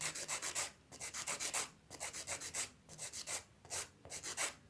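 A fingernail being shortened with a file gives quick bursts of rhythmic scraping strokes, close and crisp. Short pauses break the strokes into about five runs over nearly five seconds.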